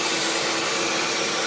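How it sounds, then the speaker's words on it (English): A hair dryer blows continuously while hair is being styled, a loud, close, steady broadband whoosh with no pauses and no talking. "Got my dryer on."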